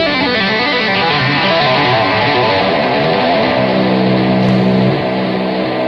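At full speed, a heavily distorted electric guitar rips through a fast lick, with loud, continuous overdriven notes blurring together before settling onto a held lower note near the end.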